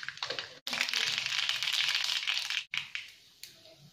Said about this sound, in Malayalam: ഇനി ഇതിലേക്ക് 1/2 ടീസ്പൂൺ കടുക് ഇട്ട് കൊടുക്കാം.